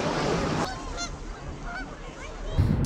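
Geese honking nearby at a pond, a few nasal calls scattered over a few seconds against a rough, breezy outdoor background.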